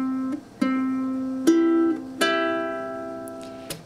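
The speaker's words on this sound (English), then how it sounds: "there are only zeros, which means that we are playing the strings open" Open ukulele strings plucked one at a time, four or five clear ringing notes that overlap and decay slowly, close and fairly soft with no talking.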